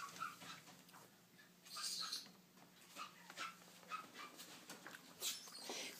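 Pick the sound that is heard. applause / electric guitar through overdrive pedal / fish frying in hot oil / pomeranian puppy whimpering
pomeranian puppy whimpering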